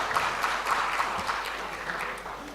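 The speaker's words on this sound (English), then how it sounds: "Let's give a round of applause for our speakers." An audience at an international medical genetics symposium applauds the speakers, an even, moderately loud patter of many hands that carries on steadily for the whole moment.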